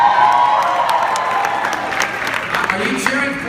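A rally crowd in Nevada cheers and applauds loudly and close, dense clapping and shouts that fade slightly over a few seconds, with voices mixed into the roar.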